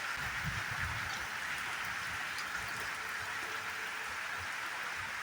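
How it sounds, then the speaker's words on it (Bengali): Steady heavy rain hisses continuously, a dense broadband wash with no pauses and no voices. "প্রচণ্ড বৃষ্টি, মানে কাল রাত থেকে এত বৃষ্টি হচ্ছে"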